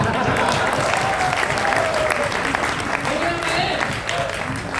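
Loud, steady audience applause at a gathering in Delhi, sustained throughout with dense clapping and a few voices calling out over it.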